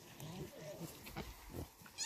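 Pigs on a farm near a run-down pig house, giving low grunting and snorting calls in a few short bursts, fairly close and moderately loud, with a brief sharper squeal near the end.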